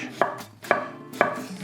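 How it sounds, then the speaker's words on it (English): A knife cuts through chicken against the grain on a cutting board in three crisp, evenly spaced chops, close and clear with no talking. "So I'm going to be cutting against the grain, going this way."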